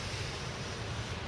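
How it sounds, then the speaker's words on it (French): Outdoor wind blows steadily across the microphone, a constant, fairly faint broadband rush with a low rumbling buffet underneath and no voices. "Là il y a du vent ici"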